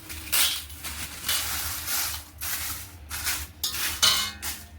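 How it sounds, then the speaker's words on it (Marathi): Sankeshwari chillies roast in a little oil in a pan, with repeated close scraping and clinking of a spatula against metal over a light sizzle, coming in uneven bursts. "आता थोडंसं तेल घालायचं परत आणि ही सुद्धा मिरची आपण भाजून घेऊ"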